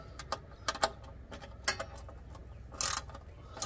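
A ratchet tightens the oil drain plug on a Honda Del Sol Si with a 13 mm socket, giving a few quick, close bursts of clicking separated by short pauses and no talk.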